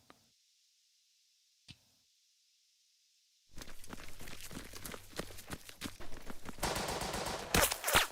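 Near silence with two faint clicks gives way to machine gun fire in the Burden of Command video game: sustained rapid bursts, dense and close, with footsteps mixed in and a louder volley at the end.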